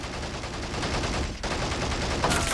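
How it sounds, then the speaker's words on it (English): A .30 cal machine gun firing in a WWII real-time strategy battle, with a dense, continuous rattle of rapid shots at steady loudness and a brief break midway. "30 cal finally firing,"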